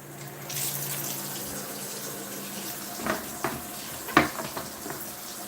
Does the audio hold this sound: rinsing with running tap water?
yes